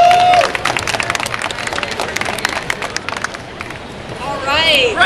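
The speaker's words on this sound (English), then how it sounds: "Round of applause for contestant number three." Crowd at an anime convention cosplay contest applauding a contestant, a dense, loud burst of clapping mixed with cheers and crowd murmur, tapering off before a voice and some squeaky tones return near the end.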